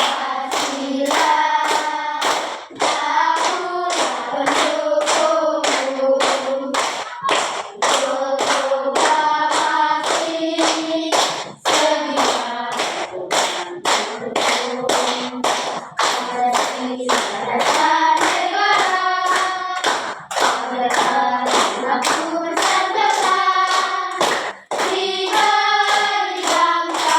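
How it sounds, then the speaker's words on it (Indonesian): Steady rhythmic hand clapping keeps time beneath a group singing the Indonesian patriotic song Garuda Pancasila, continuing loudly and evenly from start to finish. "Tepuk tangan."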